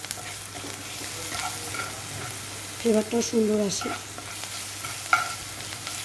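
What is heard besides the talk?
onions frying with sugar in a pan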